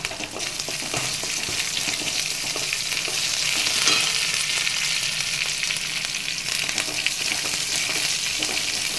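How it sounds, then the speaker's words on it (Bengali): Minced ginger, chopped green chilli and curry leaves fry in hot oil as a tempering, giving a loud, steady sizzle with occasional stirring scrapes throughout. No voices. "আর ফোড়নটা ভাজা ভাজা হয়ে এসছে"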